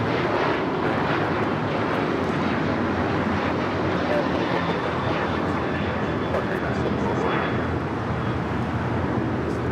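A Korean Air Boeing 747 taxis at LAX, its jet engines giving a steady, broad roar that stays constant throughout and is heard at a distance, with a voice talking over it.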